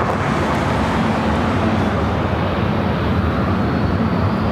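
A WestJet Boeing 737-700 departs LAX for Edmonton, its jet engines a loud, continuous broadband roar that holds steady throughout with no talk.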